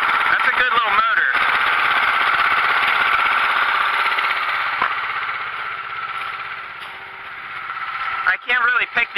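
County Line log splitter engine running at a steady loud idle close by, with rattling bursts at the start and end.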